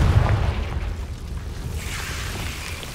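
The Confringo blasting spell in Hogwarts Legacy goes off as a single low, muffled boom at the very start, then fades into a quieter rumbling tail.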